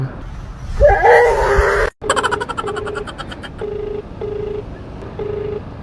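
A mobile call to a delivery drop-off customer starts with a voice speaking, then a short dropout, then repeated short electronic ringback tones at a steady pace.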